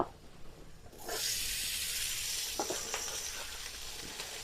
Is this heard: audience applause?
no